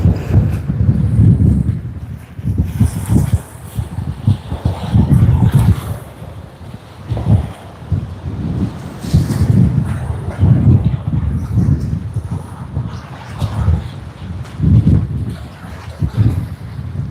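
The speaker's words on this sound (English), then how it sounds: "It's quite windy and it's moving my camera around." Strong gusty wind at Sydney Airport buffets the microphone in continuous low rumbling surges, loud and close, with no clear voices.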